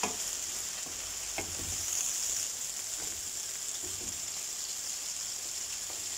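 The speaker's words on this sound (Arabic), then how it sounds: "هي تقلى البطاطا ديالي" Small-cut potatoes fry in hot oil, a steady close hiss of bubbling with occasional soft taps from a utensil.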